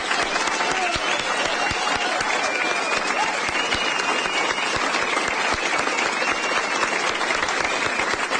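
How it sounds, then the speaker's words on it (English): A crowd at an election night event applauds campaign staff, producing loud, continuous clapping that holds steady throughout, with faint cheering woven through it. "Could I hear a round of applause for my staff?"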